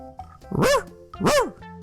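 A dog barks twice in quick succession, two loud, close, rising-and-falling barks with a brief pause between them.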